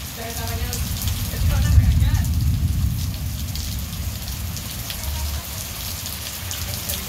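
Warm rain falls steadily outdoors, with water running off a house roof, a continuous broadband patter that swells briefly near the start and holds at an even level throughout, with faint voices audible in the background.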